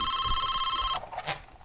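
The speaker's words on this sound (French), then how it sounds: "Le combiné carillonne, Cato." An office telephone handset trilling with a bright sustained electronic ring that cuts off abruptly, followed by faint handling noise.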